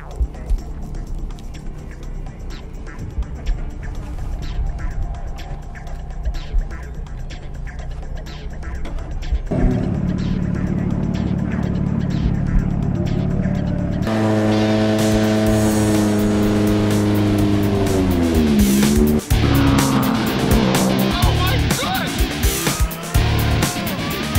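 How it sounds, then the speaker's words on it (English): An F1-style race car revs and roars, loud and continuous, with its engine pitch rising and falling as it accelerates and shifts, getting noticeably louder and harsher midway through. "I'm about to drive a really fast car"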